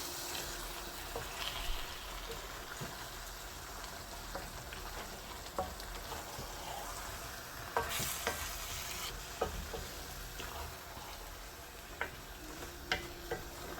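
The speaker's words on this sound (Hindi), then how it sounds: "अब साग डाल के इसकी बुनाई करेंगे। अच्छी तरह से हमने बुनाई करनी है साग की।" Mustard greens saag is stirred in a hot pan, with a soft continuous sizzle beneath scattered scraping and tapping spoon strokes, fairly quiet and close with no voices.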